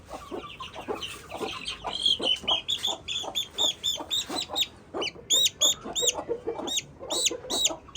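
A hen clucks in rapid, repeated bursts close up, a busy rhythmic cackling that continues throughout.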